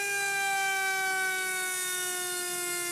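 A small electric motor in a supercapacitor-powered foam toy airplane gives a steady, buzzy high-pitched whine that drifts slightly in pitch over a few seconds, close and unaccompanied.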